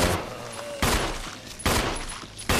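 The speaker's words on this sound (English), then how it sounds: "I'm gonna unload some pistol ammo on him here and hopefully kill him." Pistol shots ring out in the Resident Evil Remake, three loud, evenly spaced reports each trailing off into a decaying echo, close and with no talk.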